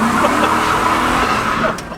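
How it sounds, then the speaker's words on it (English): A car's engine roars steadily at high revs with a stuck throttle during a burnout, a loud continuous drone lasting throughout with no break. "We have is a throttle problem. I thought you were doing a burnout. I was, but then it just kept going."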